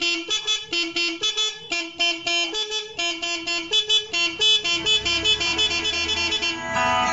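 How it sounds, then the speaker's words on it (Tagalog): A two-tone high-low totit horn on a Barako 175 motorcycle honks in quick, rhythmic patterns of bright alternating tones, loud and close, repeating throughout with a low hum near the end. "Loud horn."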